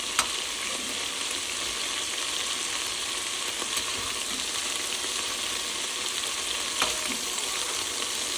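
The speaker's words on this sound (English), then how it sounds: "By browning it or cooking it for a hot second, the meat, it gives it more of a beef flavor." Beef browning in a pot for barley stew, giving a steady, bright sizzle and frying hiss with occasional small pops and stirring scrapes, close and continuous without talk.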